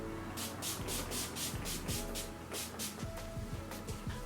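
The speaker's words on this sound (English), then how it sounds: "I'm going to be using the Urban Decay All Nighter Setting Spray" Urban Decay All Nighter setting spray misted over a made-up face in a string of quick, close hissing spritzes, about ten short bursts in a steady rhythm, with no voices.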